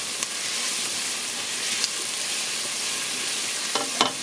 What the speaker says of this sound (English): I would cook the onions, maybe even until they start to brown a bit.